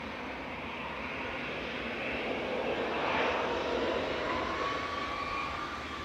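An airliner, an Ethiopian Airlines A350, taxiing at Manchester Airport, heard as a steady, broad jet-engine roar at moderate distance that swells slightly midway and then eases, with no talking.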